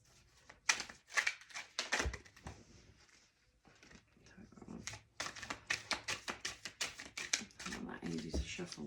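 Rapid bursts of crisp card riffling and flicking, repeated several times, with a voice talking softly in between.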